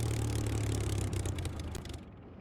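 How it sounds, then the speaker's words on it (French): A Spitfire Mk.IX engine in a flight simulator game runs down as it is shut off, a rough, rumbling drone that weakens and sputters over about two seconds before cutting to quiet. "On éteint le moteur."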